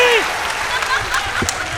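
A poetry recital audience breaks into sustained applause, a thick steady clapping that carries on while a voice speaks briefly over it at the start and again faintly later.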